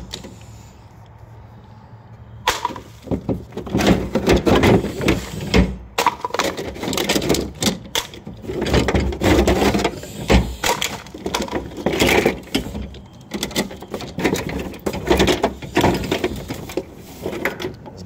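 Scraping with a 5-in-1 painter's tool during work on a polyaspartic chip garage floor, a steady run of close, gritty scrapes and splintery crunches in repeated strokes after a quiet opening.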